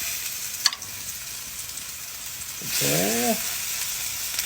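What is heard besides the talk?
steak sizzling in hot skillet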